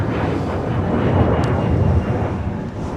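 A departing airliner's engine roars loud and steady at a snowy winter airport, a broad continuous rumble with no voices over it.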